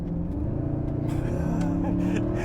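A Mercedes SLS AMG engine roars steadily as it accelerates, a loud, rich rumble with rising revs throughout.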